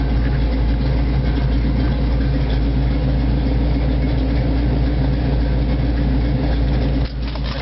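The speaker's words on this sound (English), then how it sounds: "I started the engine up hot" A Jeep 4x4 mud truck with MSD Atomic EFI idles hot in a loud, steady low rumble that holds unchanged for several seconds, close to the listener, with a slight dip near the end.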